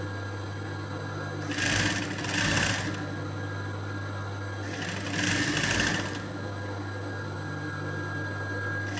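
A sewing machine stitches thread piping along the edge of a blouse in two short, fast bursts of whirring needle clatter, with a steady motor hum between them.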